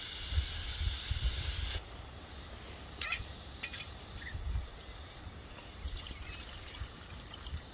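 A small camping kettle hissing as its water heats, a bright steamy hiss that is strong at first, then thins out, with low rumbling, faint trickles and a few sharp ticks nearby during an overnight rain camp.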